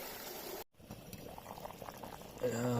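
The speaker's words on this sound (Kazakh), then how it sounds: "Сорпамыз қайнап жатыр." A pot of soup boiling over an outdoor campfire makes a soft, faint bubbling close by, with a voice rising briefly near the end.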